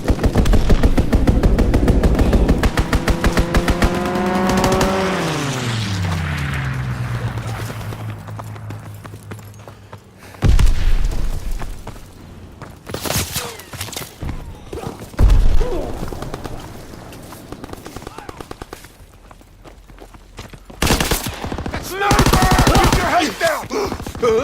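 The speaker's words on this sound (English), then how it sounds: "Strafing run inbound!" Aircraft strafing run in Call of Duty: WWII, a plane roaring overhead with its engine pitch sweeping down, followed by several loud bursts of rapid machine-gun fire and impacts.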